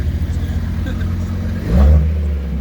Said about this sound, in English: This thing here sounds awesome as well. RS3.